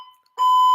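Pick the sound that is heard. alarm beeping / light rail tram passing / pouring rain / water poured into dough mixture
alarm beeping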